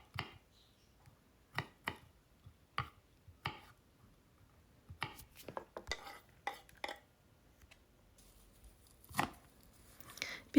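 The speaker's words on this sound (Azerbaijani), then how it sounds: "Bunu da xırda-xırda doğrayıram." A knife chops hot pepper finely on a cutting board in a string of crisp, close taps, first spaced out and then in quicker irregular bursts, with no voices.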